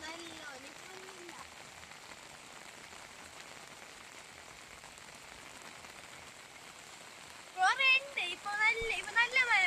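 Steady rain falls on a plantation path, a soft continuous hiss throughout, with a person talking briefly at the start and again near the end.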